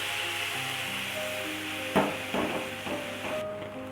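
Grated carrot sautéing in ghee after toasted coconut: a steady soft sizzle with a few spoon knocks and scrapes against the pan in the second half, close by, no talking.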